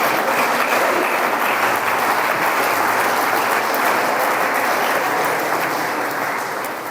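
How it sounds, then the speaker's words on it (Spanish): A church congregation claps together in a sustained, loud, even burst of applause that holds for several seconds and tapers slightly at the end. "Denle ese aplauso si desea hacerlo."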